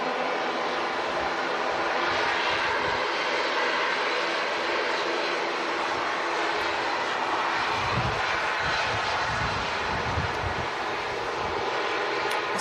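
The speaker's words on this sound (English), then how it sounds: "Heading back to Frankfurt, the Airbus A319." Jet engines of an Airbus A319 roar steadily at Manchester Airport as it prepares to depart for Frankfurt, a broad continuous rush with some wind buffeting on the microphone.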